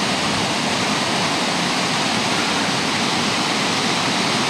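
Steady, roaring rush of Buttermilk Falls in Ithaca, New York, in winter, loud and continuous with no breaks, a dense wash of falling water close by.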